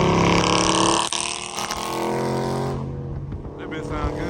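Dodge Scat Pack cars drifting and racing: loud roaring V8 exhaust rising and falling as the cars rev and pass, with tire noise and a fading engine drone, and a voice talking over the engine noise.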